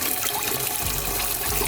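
Old, rust-contaminated fuel mixed with water draining from the tank of a Jaguar XJ6, a steady close gushing and splashing stream with no talk.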